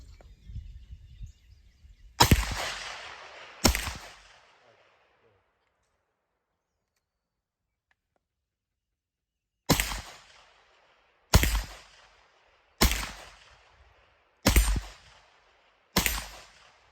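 Seven sharp gunshots from a Calico M-951 9mm carbine at an outdoor range: two close together early, a long silence, then five evenly spaced shots, each loud with a short echoing decay.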